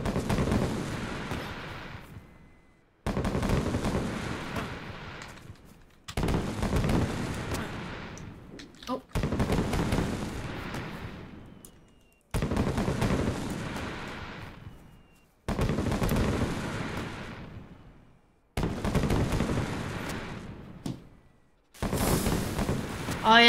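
Heavy gunshots in the survival game DayZ on Namalsk ring out roughly every three seconds. Each loud blast decays in a long, fading echo tail across about eight repeated bursts.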